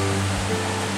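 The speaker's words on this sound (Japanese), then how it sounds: "こっちはこっちで小川がね、ああやって流れてる" Small stream flowing beside a campsite, a steady, even wash of running water with a low hum underneath, brief and without talk.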